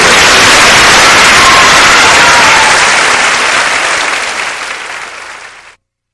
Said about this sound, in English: Please join me in giving another big round of applause for all 9 of our Strassenfest.